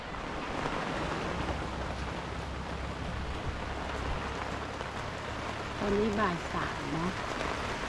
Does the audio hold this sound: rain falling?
yes